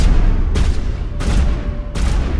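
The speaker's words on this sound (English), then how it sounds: "suppressing fire, suppressing fire. That's literally what you're doing right now." Suppressing gunfire in Mass Effect: Legendary Edition, loud bursts of shots landing in three sharp clusters over a steady rumbling battle bed, with no talk.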